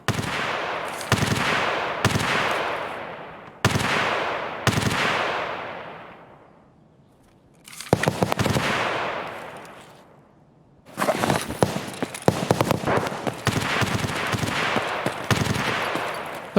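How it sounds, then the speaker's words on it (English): Repeated bursts of nearby gunfire in the Escape from Tarkov video game, several loud volleys with echoing tails and short pauses between, ending in a longer sustained stretch of shooting. "Got a lot of shooting nearby."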